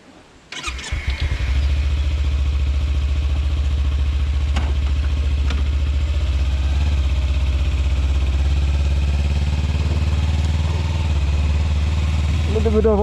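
A Kawasaki Ninja 300 motorcycle cranks and fires up, then settles into a loud, steady idle with a low throbbing rumble and light mechanical clatter, close to the listener and sustained to the end.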